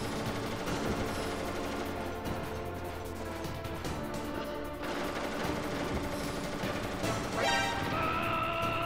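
In the Metal Gear Solid boss fight against Vulcan Raven, dense gunfire and crashing impacts pound continuously under game music and effects.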